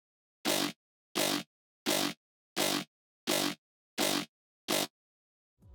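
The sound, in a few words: sound-designed dubstep growl synth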